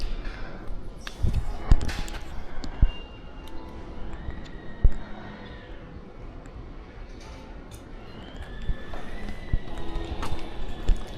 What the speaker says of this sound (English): Look at that horse.